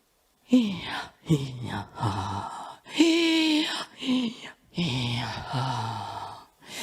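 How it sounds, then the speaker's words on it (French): Eagle breathing, a shamanic breathwork technique, performed as a series of forceful voiced exhalations and sighs in quick bursts with short gaps, close and fairly loud, with no words spoken. "une respiration qui s'appelle la respiration de l'aigle, qui est la respiration Pitcheni"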